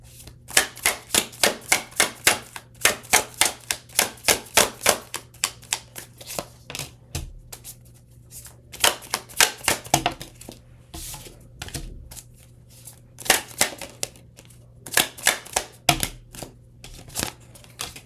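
Tarot cards riffled and shuffled in quick crisp bursts, repeated several times with short pauses between, close and clear with no talking.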